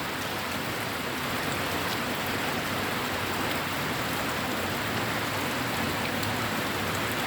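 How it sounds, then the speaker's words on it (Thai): Steady rain falls heavily on the ground, a dense continuous patter with no pauses and no voices. "ฝนตกอย่างนี้นะคะ"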